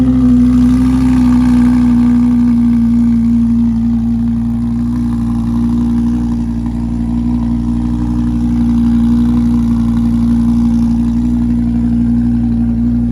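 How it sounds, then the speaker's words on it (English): A Lamborghini Huracan engine idles after startup with a loud, steady droning tone and deep rumble, a brief dip and swell in revs midway, with no talking. "Huracan startup."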